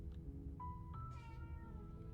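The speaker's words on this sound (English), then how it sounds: "You're probably just gonna have to deal with my cat meowing in the background" A cat meows in the background, a few short faint rising calls spread over a couple of seconds against a low steady hum, with no one talking.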